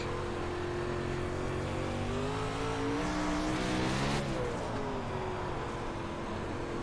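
Simulated race car on a dirt track in the iRacing game, engine droning steadily as throttle is fed in and eased, pitch rising and then falling, loud and continuous with no talk.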